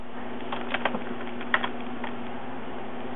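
Keys tap on a Mac computer keyboard in a short, irregular burst of light clicks, quiet and close, followed by a faint steady hum.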